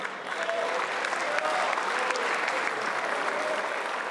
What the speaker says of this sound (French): Charles de Courson applaudit à la gauche de l'hémicycle, mais aussi à l'extrême droite de l'hémicycle par les députés du Rassemblement national.